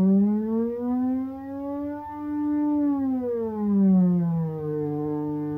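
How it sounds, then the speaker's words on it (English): A sustained synthesizer string tone with rich harmonics, its pitch gliding slowly up, then down and back, loud and alone without any voices. "So you hear the first strings group"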